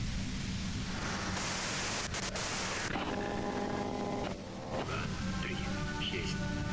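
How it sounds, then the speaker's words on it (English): Loud, dense radio static hisses without a break in the Disco Elysium video game, a broad white-noise roar that fills the whole stretch, with faint tonal warbles and buzzing bands drifting through it. "you can do it through the white noise"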